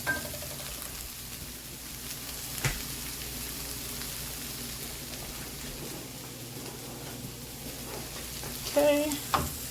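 Jambalaya ingredients toast in a pot with a steady, moderate sizzle and crackle throughout, and a couple of brief clinks or stirring knocks break through near the start and end.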